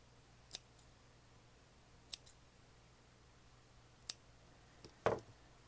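Scissors cut out a paper letter J, heard as a few faint, widely spaced snips and clicks in a very quiet room, with the last cut slightly louder.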